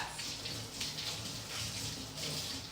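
Tap water runs steadily into a sink as celery is rinsed, a continuous close hiss of flowing water with no voices.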